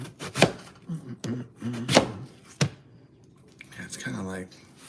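A knife chops food on a cutting board for turkey burgers, several sharp, irregular, close knocks mixed with someone talking throughout.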